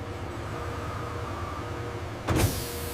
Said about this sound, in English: the 120-valve filler running at full speed